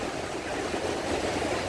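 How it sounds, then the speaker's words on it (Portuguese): Sea waves wash onto a busy beach as a steady, broad rush of surf, distant and moderately quiet, with no voices over it. "Olha o barulhinho do mar, coisa boa."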